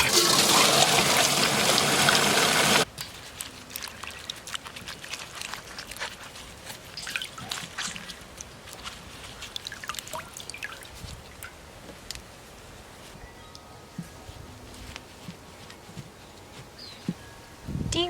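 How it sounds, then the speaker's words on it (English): Kale leaves are washed under a running tap, with a loud gush of water at the start that cuts off and gives way to soft dripping, trickling and leafy rustling nearby. "Wash and de-rib kale."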